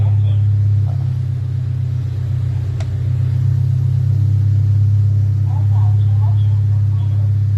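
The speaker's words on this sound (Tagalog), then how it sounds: "Maingay lang talaga yung tambutso." Honda Civic engine idling with a missing resonator, giving a loud, steady low exhaust drone and throbbing rumble close by, with faint speech in the background.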